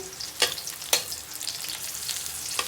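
Onion sautéing in a pan for ginisang upo with sardines, a steady close sizzle broken by a few sharp scraping stir strokes, with no talking.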